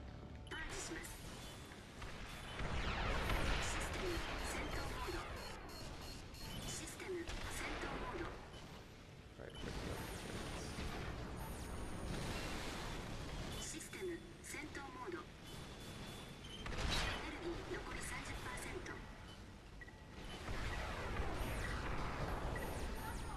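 Rapid weapon fire in the video game Armored Core V rattles through dense, continuous battle noise with repeated bursts and blasts, while a player talks over it.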